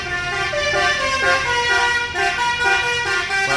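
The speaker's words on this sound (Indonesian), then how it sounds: "Siapa pakai itu yang ada telolet guys?" A loud Indonesian telolet musical bus horn plays a shifting melody of stacked tones, sounding close and steady for several seconds over traffic noise.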